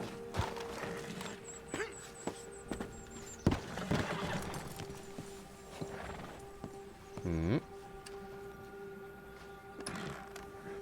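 Horse in Red Dead Redemption 2, with soft hoof clip-clops and a whinny over quiet outdoor game ambience, all fairly faint and distant.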